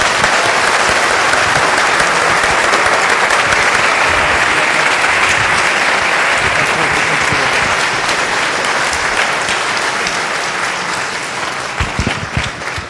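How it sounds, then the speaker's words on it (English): Loud, sustained applause from a conference audience at FOSDEM 2016, dense steady clapping filling the room for about twelve seconds before starting to thin out at the end. "Please give our speaker a final round of applause."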